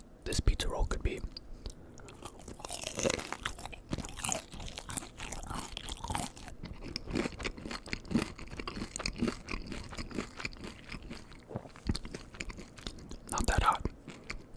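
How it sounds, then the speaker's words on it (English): Close, crisp crunching and wet chewing of Totino's uncured pepperoni pizza rolls, with repeated sharp crunchy bites and steady mouth sounds throughout, occasional soft breaths between bites. "That one had a very nice crunch to it."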